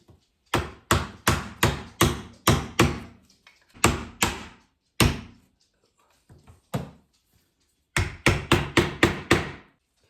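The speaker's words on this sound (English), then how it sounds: "Maybe I need a hammer" A hammer taps a painted wooden cupboard part into place indoors, in several bursts of rapid, sharp knocks separated by pauses, ending with a quick closing flurry.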